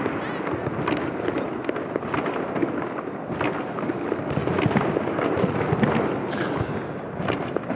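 New Year's Eve fireworks in Enschede crackle and bang continuously at a distance, with dense overlapping pops and bursts and voices chattering underneath.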